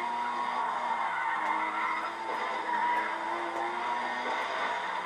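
Tires skidding under braking in the racing game Need for Speed ProStreet, a continuous squeal with engine drone lasting several seconds at moderate volume, with no talk.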